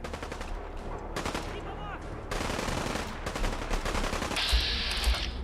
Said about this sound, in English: I don't like the bullets getting too close to me.